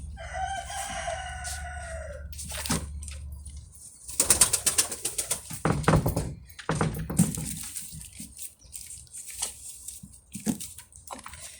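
Bird calls sound close by, followed by several bursts of loud wing flapping and rustling in a quiet space.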